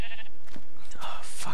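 Sheep bleating in the video game Minecraft, a couple of short bleats in quick succession over a steady background hum, fairly loud and close.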